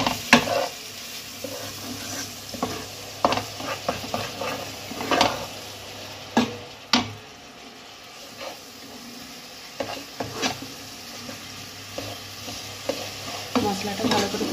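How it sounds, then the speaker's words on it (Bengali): Ground coriander, cumin, turmeric and chili powder sautéing in a pan with a little water for prawn malai curry, a steady close sizzle broken by repeated scraping stirs of a spatula, no talk. "এবার ভালো করে কষে নেব।"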